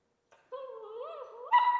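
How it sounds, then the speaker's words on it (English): A puppy gives a single drawn-out, rising yelp-like bark, close and fairly loud, ending in a sharper higher cry; no talk over it. "as soon as she barks"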